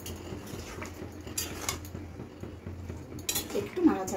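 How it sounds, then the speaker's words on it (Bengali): A utensil scrapes and clinks against a pan while prawn curry with potatoes is stirred, with close irregular metallic knocks and light sizzling, and a voice talks softly in the background. "একটু নাড়াচাড়া করে নিই।"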